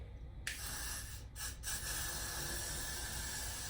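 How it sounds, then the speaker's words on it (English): A can of Blast and Freeze hair spray lets out a sudden, close aerosol hiss that starts sharply and sprays almost continuously for about three seconds, with only brief dips. "No, the blast and freeze spray."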